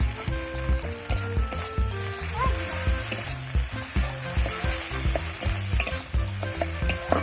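Onion paste and spices fry in hot oil, giving a continuous sizzle with stirring and scraping, while background music plays throughout.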